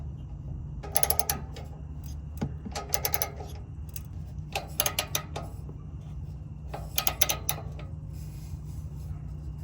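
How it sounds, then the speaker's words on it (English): Someone tightening a bolt on a BMW exhaust while fixing a rattle, four short bursts of ratcheting clicks spaced a couple of seconds apart, close but fairly quiet over a steady low hum. "Let's see if tightening this bolt just completely sets it into place."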